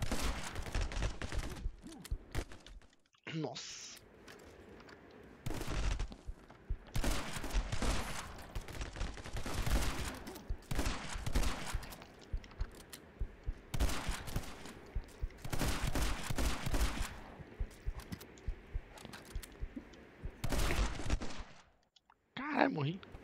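Shotgun fire in the video game My Friend Pedro comes in dense, rapid bursts, loud and near, broken by brief pauses, while a player exclaims now and then.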